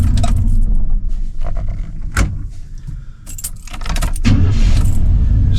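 A Blueprint 350 V8 car engine, just cured of dieseling, runs steadily and loudly close by, with a strong low rumble that swells and settles as it idles and revs a little; several sharp clicks and jangles cut through it.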